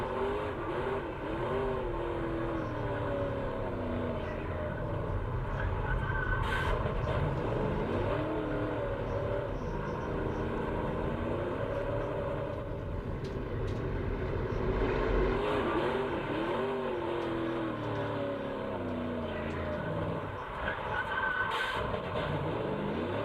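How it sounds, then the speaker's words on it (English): A NASCAR truck engine in a 2025 Truck Series race, heard continuously and loud for the whole stretch, its pitch rising and falling as the throttle is worked on and off while the truck slides. "Just hear him working that throttle there"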